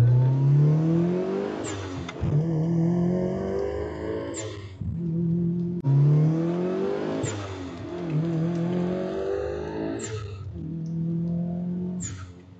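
A Mitsubishi Evo 6 engine pulls hard while driving, with loud, close revs climbing in pitch through repeated accelerations, separated by brief gear-change dips, and no talking.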